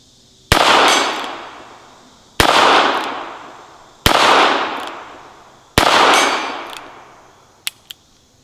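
Four loud, evenly spaced gunshots from a 10-shot .22 LR revolver, each a sharp crack with a ringing metallic tail, followed by a couple of faint clicks.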